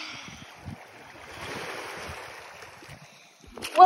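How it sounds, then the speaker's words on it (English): Ocean waves wash onto a beach in a soft, faint surge that swells and recedes under light wind noise, ending with a brief louder bump close to the microphone. "Oh, I love listening to waves."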